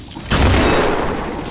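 Grenade blasts in the video game Killing Floor, a sudden loud boom bursting in and then rolling on as a dense rumbling roar that slowly fades.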